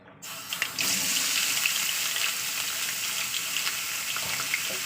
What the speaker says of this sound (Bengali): আমার তেলটা গরম হয়ে গেছে আমি এবার দিয়ে দেবো আলুটাকে